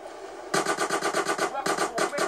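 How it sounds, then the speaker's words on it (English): Automatic gunfire rattles in the video game GTA San Andreas, a rapid burst of evenly spaced shots that breaks briefly and then resumes, loud and steady with no talk over it. "Or maybe I'll just shoot him like that."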